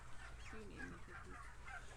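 Domestic white turkey toms gobble and chatter in a commercial barn, with soft overlapping calls at moderate distance over a steady low hum of ventilation.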